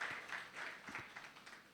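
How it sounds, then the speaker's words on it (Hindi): A church congregation claps to welcome a visiting couple at a Palm Sunday service, a faint, steady patter of applause that carries on throughout. "सो आइए हम तालियों के साथ स्वागत करें।"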